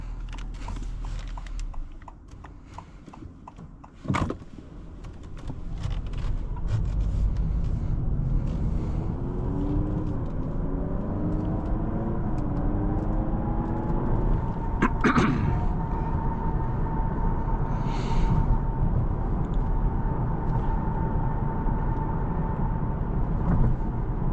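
Steady low road and tyre hum inside the cabin of a 2023 Honda Accord Hybrid Touring while driving, fairly quiet and even, with a couple of sharp clicks and a faint rising electric whine partway through.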